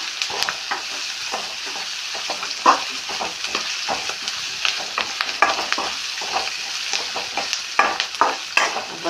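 Dried red chillies, green chillies and curry leaves are sautéed in a pan with a steady sizzle. A spatula stirs and scrapes in a quick, busy rhythm, close and clear, and no one speaks.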